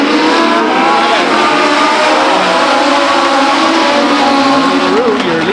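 Legends race cars roar around Stockton 99 Speedway in a qualifying race, a loud dense pack of engines revving and whining past, continuous and close, with an announcer talking over it.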